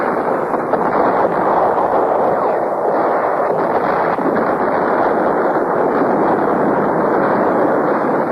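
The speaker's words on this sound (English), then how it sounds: "He steps up the intensity of his assault, scores a hit on the Marine ammunition dump." A Marine ammunition dump at Khe Sanh explodes under artillery fire, a dense, continuous roar of blasts and rumbling that stays loud and unbroken throughout.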